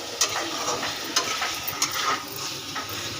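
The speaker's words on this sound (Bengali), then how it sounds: "মুরগির মাংস কষানো হচ্ছে," Chicken meat sizzling in a pan while being stirred, a continuous close frying hiss with scattered scraping and clicking strokes throughout.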